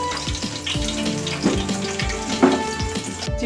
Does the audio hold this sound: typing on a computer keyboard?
no